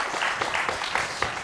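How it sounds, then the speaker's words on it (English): An audience applauding at a cello interpretation class, dense steady clapping from many hands that fills the whole short stretch at moderate loudness. "Now you can clap, applaud."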